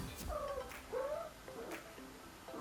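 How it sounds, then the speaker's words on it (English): Two domestic cats fight close by, giving low, drawn-out yowls and wavering caterwauls over a muffled background, fairly quiet and without speech. "my cats are having a fight right under the camera"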